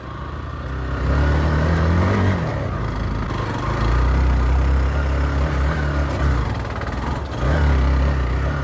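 A Hero XPulse 200 motorcycle labors up a climbing dirt trail in first gear, its engine droning close and loud, surging and easing in uneven pulls with brief dips between.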